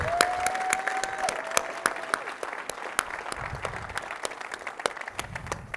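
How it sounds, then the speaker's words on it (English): An audience at the DrupalCon Portland opening keynote applauds in a hall, producing a sustained, fairly even burst of many hands clapping at moderate distance, with a brief faint whistle near the start. "let's give everybody a round of applause"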